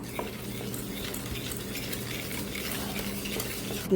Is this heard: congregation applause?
no